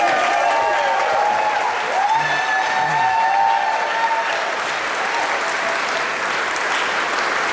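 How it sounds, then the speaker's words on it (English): A lecture audience at a Bristol happiness talk claps steadily for an introduced speaker, a sustained, even round of applause with faint tonal ringing underneath. "Give him a huge round of applause!"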